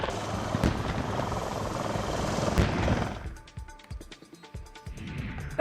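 A Dhruv helicopter roars loudly for about three seconds with a dense, rushing rotor and engine sound, then fades into a quieter stretch with scattered sharp knocks.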